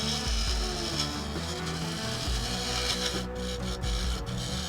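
Close, continuous rasping hiss of a gouge making a push cut on a spinning claret ash wood bowl on a lathe, with a low steady hum from the machine and slight variations in the scraping texture.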